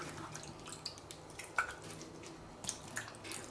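Orange and lemon peel fruit being scrubbed in a bowl of water, quiet close splashes, drips and squishy scrubbing sounds in irregular bursts, faint and without talk.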